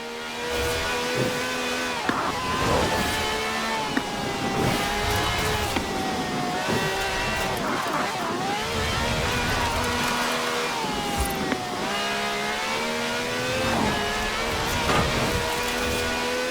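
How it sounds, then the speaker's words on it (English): A V12 car engine of over 750 horsepower in the video game Forza Horizon 4 roars loudly and continuously, rising in pitch through gears with repeated shift dips and a steady drone. "No clattery diesel engine here. This has a V12 with over 750 horsepower"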